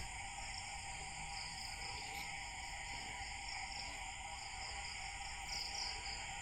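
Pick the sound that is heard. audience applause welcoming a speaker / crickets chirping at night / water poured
crickets chirping at night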